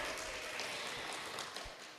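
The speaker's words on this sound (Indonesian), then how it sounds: "tepuk tangan untuk adik Aska" Quiet, dense applause from a school audience after a student's speech, an even hiss of many hands clapping that thins slightly toward the end.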